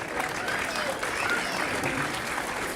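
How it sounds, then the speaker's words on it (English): Applause for a hurling team after a Junior B championship match: a dense, steady round of clapping from a crowd, fairly close, with voices mixed in. "So round of applause for Gory."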